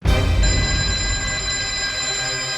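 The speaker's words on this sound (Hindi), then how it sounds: "माँ, उसी नंबर से वापस फोन आ रहा है।" A telephone rings steadily with a bright electronic tone, fairly loud and close, sustained throughout with a low rumble underneath.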